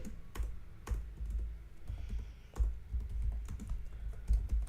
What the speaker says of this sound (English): we're going to type out frequently asked questions